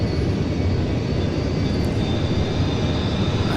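An aircraft engine at full takeoff power with the undercarriage just raised gives a loud, steady, close broadband roar that holds constant throughout, with no voices.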